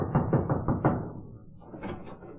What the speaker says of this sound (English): I went up to an office one day and knocked at the door.